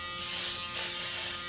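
An electric shaver buzzes close and steady, a dense continuous hum with no pauses and no voices over it.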